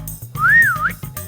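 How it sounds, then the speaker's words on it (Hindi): A police officer whistles one close, loud, clear note that rises, falls and then flicks upward briefly, framed by short moments of quiet. "बड़ी भिन्न भिन्न प्रकार की सीटियां बजानी आती हैं तने तो"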